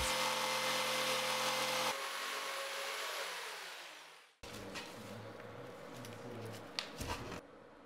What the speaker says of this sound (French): Puis, scie avec la scie sauteuse.